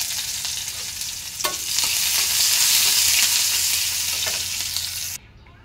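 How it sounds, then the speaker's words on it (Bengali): Onion and chili fry in a pan with salt added, giving a loud, steady sizzle throughout, with a few sharp stirring scrapes. The sizzle cuts off abruptly near the end and there is no talking. "এই যে পেঁয়াজ মরিচ ভেজে নিছি লবণ দিয়ে দিলাম"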